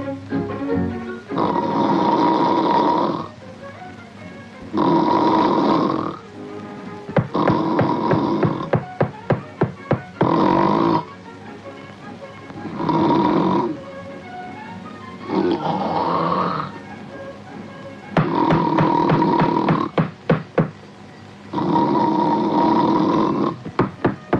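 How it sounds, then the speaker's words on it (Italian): Loud snoring boosted through a powerful amplifier, a patented anti-snoring device, comes in about eight long, rhythmic rumbling bursts separated by short quieter breaths, with sharp knocking clatter between some of them. "È stato brevettato un nuovo sistema per vincere il fastidioso inconveniente del russare."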